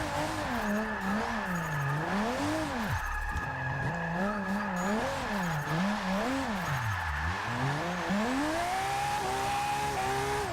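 A car drifts in Forza Motorsport 6 on the Catalunya circuit, the engine revving up and down in sweeping waves over continuous tire squeal, loud and close throughout.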